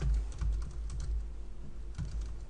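Someone types on a computer keyboard while entering a macro name in a spreadsheet, giving soft, close keystroke taps in a quick irregular run over a low background hum.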